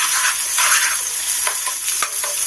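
Ginger garlic paste fries with onions in a pan for an egg curry, giving a steady close sizzle with a few soft stirring scrapes and clicks, and no voices.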